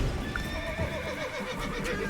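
A horse in the Witcher 3 video game whinnies loudly and close, over clip-clopping hooves and ambient game noise, all within about two seconds.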